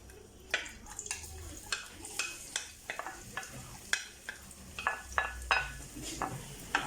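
Onion frying in oil in a pan: oil sizzles and crackles with repeated sharp clinks and scrapes of a utensil, steady frying beneath, no talking.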